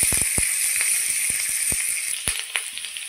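Onion, chilli and grated ginger fry in a pan with a steady hiss, broken by sharp scraping clicks of a spatula stirring at an irregular pace, close up and with no talk.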